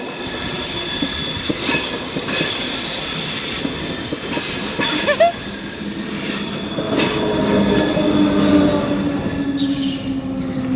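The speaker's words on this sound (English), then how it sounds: "let's film the train." A train rolls past close by, steady rumble with metallic wheel squeals and a high ringing screech rising and fading over about ten seconds.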